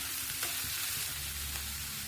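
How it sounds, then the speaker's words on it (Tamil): Chopped bottle gourd and green chillies sauté in a covered pan over a medium flame, giving a steady, soft sizzle and frying hiss with a faint clink near the start. "மூடி போட்டு லேசாக வதக்கலாங்க."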